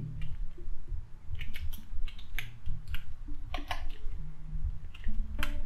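Fingers type an adb command on a computer keyboard, giving quick irregular clicks of keys and a few louder presses, close-up over faint low room noise.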